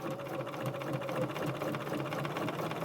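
A sewing machine stitching along invisible zip tape, running continuously at a steady, fast, close whirring pace throughout with no talk.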